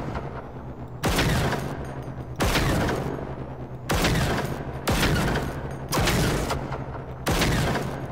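Gunfire in the video game Generation Zero: six loud sustained automatic bursts, each about a second long and separated by short pauses, with mechanical rattle between them and no talking.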